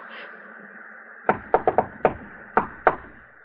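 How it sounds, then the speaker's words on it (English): Series of sharp knocks on a wooden door in an old noir mystery radio drama, seven raps in two quick groups, loud and close with no talking over them. "Someone knocked, Edith."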